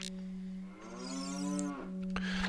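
A cow moos in the video game Zelda: Ocarina of Time, one drawn-out, tonal, slightly rising and falling low call lasting about two seconds, clear and alone over a steady game hum.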